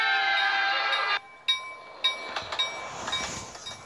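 A train passes in the Roblox video game, with a sustained loud rumble that cuts off abruptly and then a series of sharp metallic clanks and knocks trailing away.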